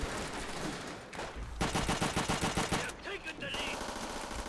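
DP-28 machine gun firing short bursts in World at War, loud close automatic fire in rapid repeated rattles across most of the clip, with brief gaps between bursts and some game background noise.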